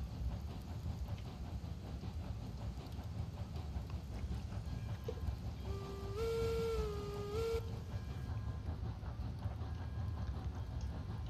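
A loaded steam train in the game Railroads Online hauls 26 wagons and 330 tonnes uphill, a constant low rumble and chuff with a brief two-tone whistle sounding in the middle, no talk.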